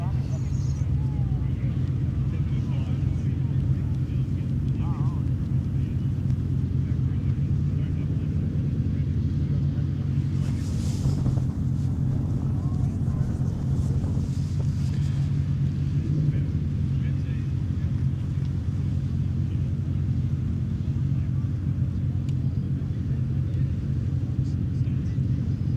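Can-Am side-by-side engine at a motorkhana stage, a steady low droning rumble held throughout with wind buffeting, people talking faintly in the background.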